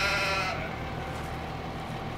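A sheep in the video game Farming Simulator 2015 gives a single short bleat at the start, then a steady low hum of game ambience continues with no voices.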